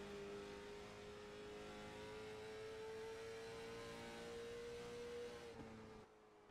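A late model race car engine drones at steady revs as the car rolls through the center of the track, a sustained tonal hum that drops off abruptly near the end.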